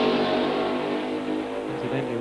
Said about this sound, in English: There's John McCormick in car number 9 going down now behind David Hobbs